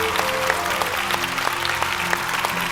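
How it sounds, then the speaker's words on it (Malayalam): A crowd claps steadily for child performers at a Kozhikode stage show, dense sustained applause with a faint tonal hum beneath. "നമ്മുടെ പിള്ളേർക്ക് വേണ്ടി എല്ലാവരും നല്ലൊരു കൈയടി അടിച്ചേ"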